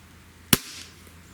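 A single sharp crack from a Smith & Wesson 78G/79G CO2 pistol, loud and close, with a short decay and no talking.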